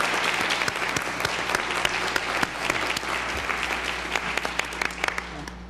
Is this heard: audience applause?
yes